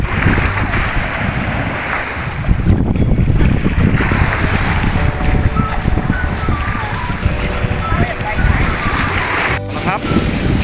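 Strong sea water and crashing waves at a beach in Rayong, a loud continuous roar of surf with heavy wind buffeting the microphone throughout.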